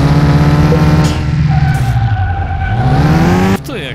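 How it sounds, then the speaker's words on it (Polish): A revving Mini Cooper engine in Forza, a front-wheel-drive car, with squealing tires as it drifts, loud and close, pitch dipping and rising before an abrupt change at the end. "Gość tu driftuje!"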